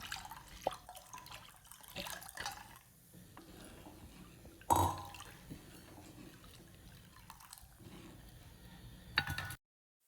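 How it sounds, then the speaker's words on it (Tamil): Water is poured into a kadai holding cooked toor dal while making lemon rasam, with quiet splashes and trickles and one louder splash midway, close and alone. "இது கூட கொஞ்சம் தண்ணி சேர்த்துக்கலாம்."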